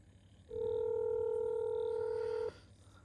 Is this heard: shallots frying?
no